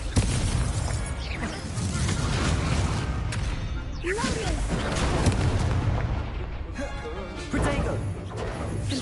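Repeated Confringo fire-blast spells burst in Hogwarts Legacy amid a dense, loud wash of combat crashes and booms, with a voice speaking at points over the din.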